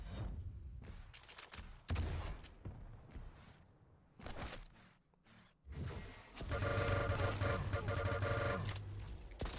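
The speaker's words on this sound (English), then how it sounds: "Nail gun is such a good weapon to get rid of turrets." A nail gun fires at a turret in a QPL Challengers video game match: short, scattered bursts of rapid mechanical shots, then a louder sustained barrage at close range.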